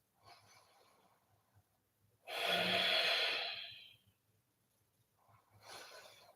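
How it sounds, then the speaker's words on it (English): Long deep breathing during a Kundalini yoga session: soft faint breaths, then one long, loud, rushing breath through the nose that lasts nearly two seconds, followed by quieter breaths, with no talking. "Long deep breathing."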